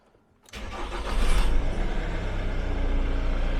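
A Jaguar X-type estate engine cranks and catches after a short quiet moment, then settles into a steady, loud idle close by, with no talking over it.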